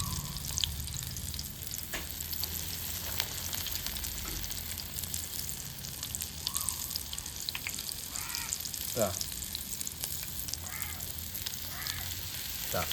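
Chicken pieces coated and fried in hot sunflower oil for a potato chicken dish, a steady close sizzle running throughout, with crows cawing faintly in the background.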